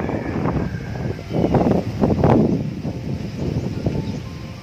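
Gusty wind buffets the microphone, rising and falling in broad rumbling surges with a faint rustle behind it, loud and close throughout.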